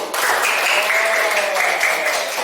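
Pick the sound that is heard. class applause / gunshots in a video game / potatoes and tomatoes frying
class applause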